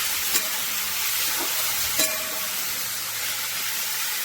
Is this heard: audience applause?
no